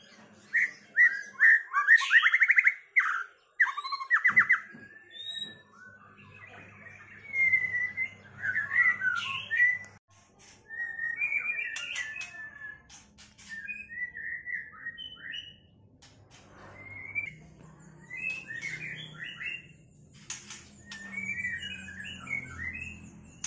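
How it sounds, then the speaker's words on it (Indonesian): A songbird chirps and whistles in bright bursts of trilling phrases, some loud and near, with pauses between and faint background rustle. "Ini burung yang kemarin saya update punya gaya sujud."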